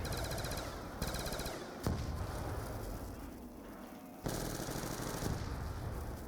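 Rapid automatic gunfire from a weapon in Black Ops 2 Zombies, loud and close, firing in sustained bursts with brief gaps and sharp restarts, set against a dense game soundscape.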